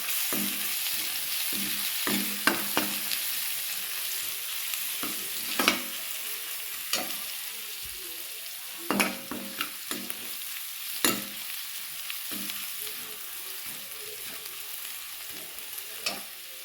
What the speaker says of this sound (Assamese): এয়া মোৰ ৰঙা হৈ গৈছে, ফ্ৰাই হৈ গৈছে।